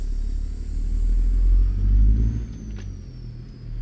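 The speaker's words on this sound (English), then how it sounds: "this is the best sounding engine on ZeeMods" Aussie-tuned Detroit DD60 truck engine in American Truck Simulator revving, a deep, loud rumbling drone that swells and settles as the revs rise and fall, heard alone with no talk.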